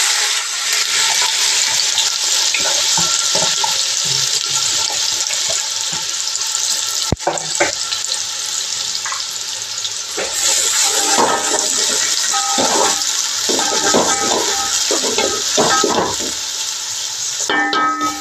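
Sliced onions frying in hot oil with whole spices for masoor pulav, a loud, steady sizzle running throughout, with occasional stirring scrapes and clinks near the middle and end.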